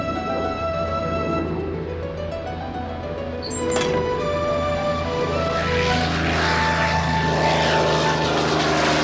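A propeller airplane on a test flight drones steadily overhead, its engine hum with shifting pitch swelling slightly louder over the second half, heard alone without talk.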